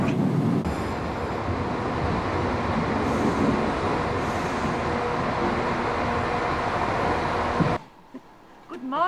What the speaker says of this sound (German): Die Lok quält sich.